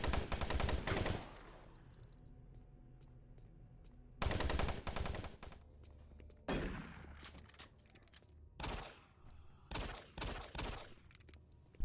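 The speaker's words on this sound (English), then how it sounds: "Why do the guns sound like shit?" Bursts of rapid gunfire from the video game Doom 3, loud and close, coming in several separated volleys with short gaps between them.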